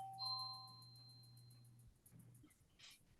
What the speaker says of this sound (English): why is she ringing the doorbell?